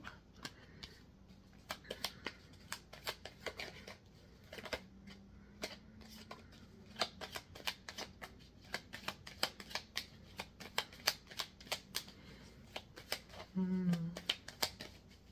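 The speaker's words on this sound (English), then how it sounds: "I'm pulling cards from the Lenormand Oracle deck." Lenormand Oracle cards being shuffled and handled for a five-card spread, a long run of quick, crisp flicks and riffles close by, with a brief flurry near the end.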